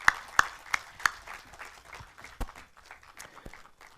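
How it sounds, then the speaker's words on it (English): Scattered applause at an award ceremony as a winner is announced, starting with a few loud, sharp nearby claps and then thinning into lighter, uneven clapping from a smallish audience. "Please give him a loud round of applause."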